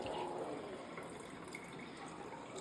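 Juice poured into a glass during juice preparation on a hot day, a steady continuous liquid stream, soft and fairly quiet, with no talking.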